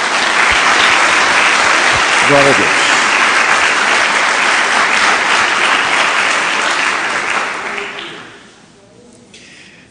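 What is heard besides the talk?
congregation applauding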